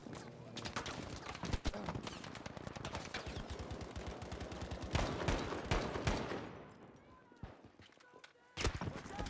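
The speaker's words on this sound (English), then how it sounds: "Whoa, got sniped." A sniper shot in a shooter game, set amid dense, rapid gunfire and clattering action, with a sharp, loud crack standing out near the end.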